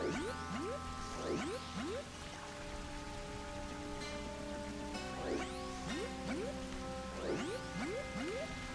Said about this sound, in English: is this rain here? This rain was here in the original, right?